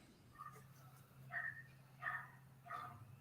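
Three separate dog barks sound at moderate distance over a steady low hum, spaced roughly evenly, with no talking over them.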